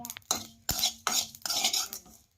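Spice masala is dry-roasted in a pan, with a few quick metallic scrapes and clanks of a spoon stirring against the pan in short bursts. There is only a faint sizzle and no talking.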